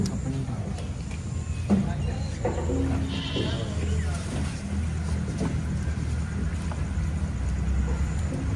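Goats bleating outdoors while a goat is treated for knee inflammation, a few short bleats rising over steady background noise as people talk nearby.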